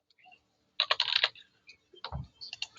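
Keys clatter on a computer keyboard in two quick bursts of close, crisp typing with short pauses between them, and no talking.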